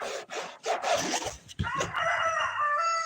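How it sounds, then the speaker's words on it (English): A noisy rooster on a rural homestead crows a long, strained, raspy call close by, following some rough scraping and rustling sounds, with no talking. "I have a rooster that wants to be chicken and dumplings because he won't shut up"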